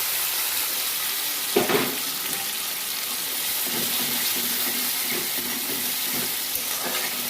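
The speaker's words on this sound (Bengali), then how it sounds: "এবার এর মধ্যে কাঁচা লঙ্কা কুচি, টমেটো কুচি আর আদা রসুন বাটাটা দিয়ে দেবে, দিয়ে ভালোভাবে নাড়তে থাকবে।" Onion, green chilli, chopped tomato and ginger-garlic paste fry in a pan for prawn curry, a steady loud sizzle with occasional scraping stirs.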